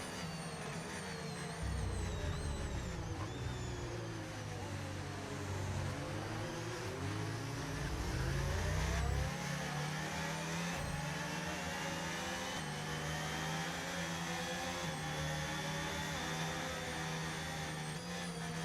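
Race cars lap the Austrian GP circuit in the F1 25 racing game, a continuous engine whine that rises and falls through gear changes over a low rumble, steady and fairly loud throughout under a safety car period.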